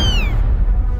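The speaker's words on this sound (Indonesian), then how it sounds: "Suara anak kucing yang selalu ribut bagai rengekan bocah yang serba salah." A kitten lets out one short, high, falling meow at night, over a steady low rumble that continues after the cry fades.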